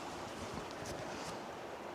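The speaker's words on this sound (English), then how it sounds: "the wind is picking up a little bit, just gusts here and there" Wind rushes and buffets in soft gusts in the mountains of Monongahela National Forest in March, a steady broad whoosh outdoors with brief swells.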